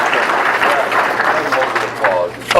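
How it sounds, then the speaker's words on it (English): Applause greets a winner's name at a high school senior awards ceremony, a burst of crowd clapping that rises and fades over a couple of seconds, with a voice speaking over the end. "let's hold our applause till we're done here"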